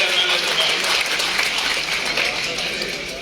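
A crowd at a live event applauds the MLAs loudly, a dense, steady wash of clapping that fades slightly toward the end.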